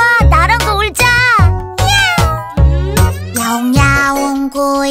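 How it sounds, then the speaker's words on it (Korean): A cat's meows set within a children's song, the voiced cries rising and falling over a steady musical backing, several in a row, loud and up front with singing throughout. "야옹야옹 고양이 너무너무 귀여워."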